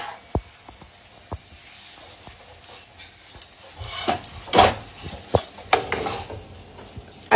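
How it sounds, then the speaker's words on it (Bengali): Simai vermicelli fries in a pan while being turned over and stirred, with scraping strokes, scattered sharp utensil clinks and a soft sizzle building in the second half. "এই দেখো কিরকম ভাজা হচ্ছে,"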